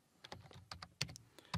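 Keys tapped on a computer keyboard while entering a PowerShell command, a run of light, quick clicks in irregular rhythm with a louder final keystroke, close and clear with no talking.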